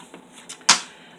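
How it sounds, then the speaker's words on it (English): Small scissors scoring a paper thank-you card along a scoreboard line, giving a brief sharp scrape near the end after a couple of faint light taps, close and alone. "I'm just going to take my little scissors and go down the scoreboard line right here and kind of give it a score"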